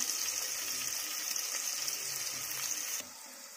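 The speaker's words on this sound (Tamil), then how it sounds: "வெங்காயம் வந்து கலர் மாறுற வரைக்கும் நம்ம நல்லா இதை கொஞ்சம் வதக்கிக்க போகிறோம்" Onions frying and being sautéed in a pan for a vegetable kurma, a steady close sizzle that holds evenly, then drops slightly quieter near the end.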